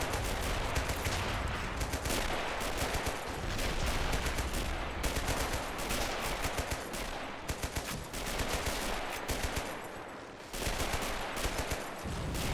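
Mortar and artillery rounds land amid a war video game battle between US Marines and French forces on Natuna Island, heard as dense, loud, rapid bursts of gunfire and impacts that continue almost without pause.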